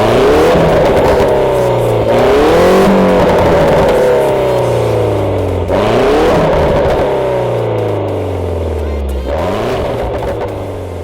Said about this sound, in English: So here we have it guys, a 2009 Mini Cooper S.